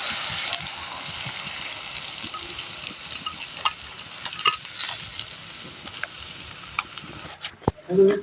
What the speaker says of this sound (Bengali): সিম ভাজির সাথে খাওয়ার জন্য সাইডে আমি একটা ডিমও ভেজে নিচ্ছি।